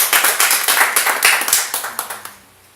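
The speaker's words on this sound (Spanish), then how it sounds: "Dale un aplauso fuerte a Jesús" A church congregation claps loudly together in a dense, fast burst of applause that carries for about two seconds, then thins out and trails off, with no voices over it.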